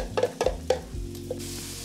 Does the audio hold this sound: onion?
yes